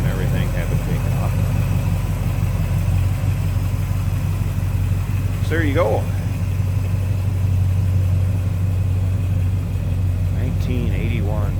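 A 1981 Chevrolet El Camino SS with a 350 V8 idles steadily with its A/C compressor removed, a smooth low rumble holding even throughout while someone talks briefly over it.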